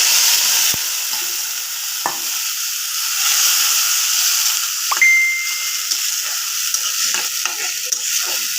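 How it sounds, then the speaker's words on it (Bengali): Red lentils hit garlic and onion frying in oil for masoor dal with jute leaves, giving a bright, continuous high sizzle dotted with soft scraping clicks of a stirring spoon. "আমি রসুন পেঁয়াজটা তেলে ভালো করে ভেজে নেব পাট শাক আর মুসুরি ডালের জন্য"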